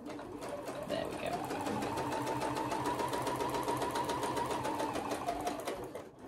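A sewing machine runs steadily at close range, its needle clattering in a fast even rhythm as it stitches the edges of fabric for a bookmark; someone talks over the whirring motor.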